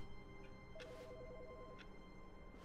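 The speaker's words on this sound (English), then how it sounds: "There's a phone ringing." A telephone rings inside the video game The Stanley Parable, a steady electronic ringing pattern of rapid alternating tones lasting about a second, heard faintly over a constant low hum of game ambience.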